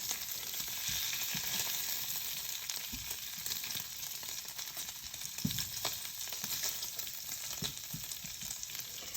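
Bacon frying crispy in a pan, a steady close sizzle and crackle with scattered pops and light stirring clinks, continuous throughout without talk.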